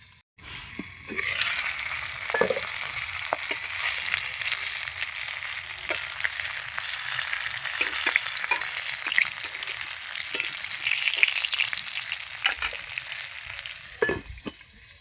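Hilsa paturi wrapped in banana leaf sizzles steadily in oil in a covered pan over low heat, with a continuous bright frying hiss and a few soft knocks and clinks.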